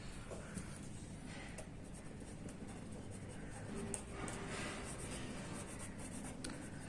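Pen or pencil scratching across paper in steady strokes, fairly quiet and continuous with small bursts, no voices.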